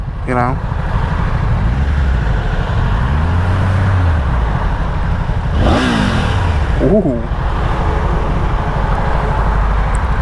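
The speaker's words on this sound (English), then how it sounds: "Thing revs up pretty quick." A 2024 Triumph Tiger 900 GT Pro motorcycle engine revs in a few quick rising-and-falling sweeps over a steady idle rumble, with a person briefly exclaiming nearby.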